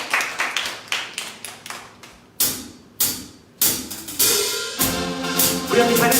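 A church congregation at a Tuesday worship gathering in Hongdae claps in scattered, sharp bursts that thicken into denser, louder applause toward the end.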